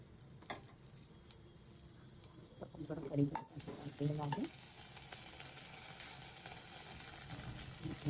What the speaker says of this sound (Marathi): कढीला फोडणी द्यायला कढईमध्ये थोडंसं तेल टाकायचं आहे, थोडासा कढीपत्ता आणि मोहरी